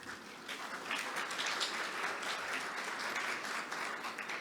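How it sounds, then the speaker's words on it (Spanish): Applause from an audience at a conference on the insurance sector and climate, welcoming a speaker: steady, dense clapping throughout, moderately distant, with no voices over it. "Un aplauso, por favor."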